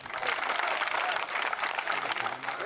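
Audience applause at a Hindi comic poetry gathering, a sustained wash of many hands clapping at steady loudness throughout with a faint murmur of voices underneath.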